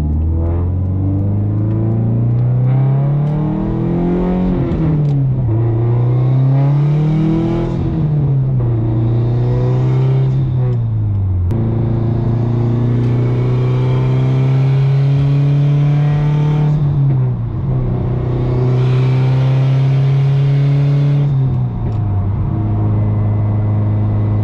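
A Subaru STI accelerates on the freeway, its engine rising and falling through the gears in long revving pulls under a constant road rumble, heard from inside the car.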